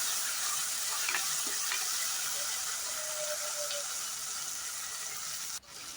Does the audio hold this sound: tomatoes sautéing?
yes